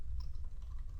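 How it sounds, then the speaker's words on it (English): Fingers type on a computer keyboard in a quick, faint burst of light clicking keystrokes, alone with no talk. "So I'm going to type list"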